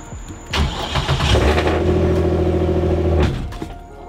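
A turbocharged car engine cranks and catches, then settles into a loud, steady, throbbing idle for a couple of seconds before cutting off.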